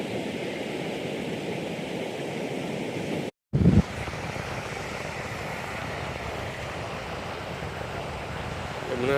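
The Yamuna river runs strongly below, making a constant broad rushing roar heard from nearby, with one brief dropout partway through.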